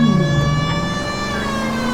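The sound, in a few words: police car siren in the video game LA Noire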